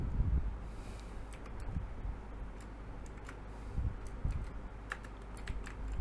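Rapid typing on a computer keyboard while a name is entered, irregular clicks of keys coming in quick bursts over a steady low background hum, with no talking.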